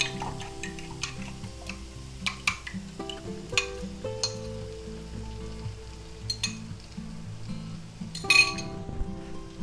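Eggs stirred into a pan with ham, hot peppers and onions for a breakfast burrito: a spatula clinks and scrapes against the pan in irregular strokes over a soft sizzle, with no talking.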